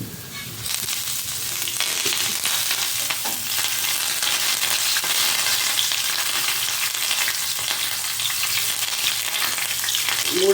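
Curry leaves and dried red chillies sizzle and crackle steadily in hot oil, a loud, continuous frying hiss with occasional pops, heard alone.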